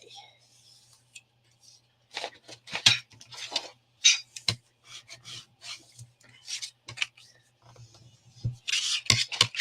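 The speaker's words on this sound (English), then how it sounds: "I'm folding on all of those score lines, and then I am going to burnish them." Folded score lines on paper are burnished with short, dry rubbing and rasping strokes coming in quick irregular bursts, close and fairly quiet, against a faint steady hum.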